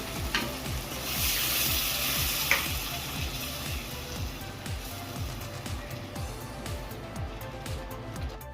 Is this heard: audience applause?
no